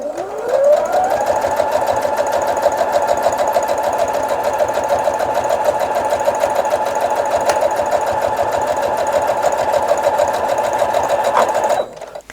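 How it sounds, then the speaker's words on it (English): A sewing machine runs fast and steadily stitching scrap fabric, a dense mechanical buzz of rapid stitching that winds up at the start and stops abruptly near the end. "Back to the sewing machine."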